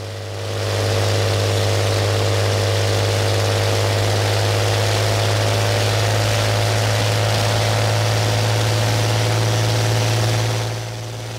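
An Allison V-1710 aircraft engine runs at sustained power on a dynamometer, a loud, steady, deep drone with a strong low hum and even harmonics, fading in at the start and easing off at the end, with no talking.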